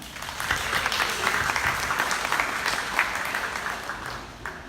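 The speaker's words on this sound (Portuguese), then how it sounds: "Uma salva de palmas para as mulheres." A seminar audience at a spiritist conference in Porto Seguro claps steadily for several seconds, a dense, even patter of many hands at moderate loudness.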